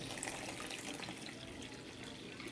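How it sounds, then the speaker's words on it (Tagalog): Three cups of water pour steadily into a kutsinta batter mixture, giving a continuous splashing trickle that holds at an even, moderate level throughout. "pag nahalo na, lalagay na natin yon water. So, mayroon tayong 3 cups of water."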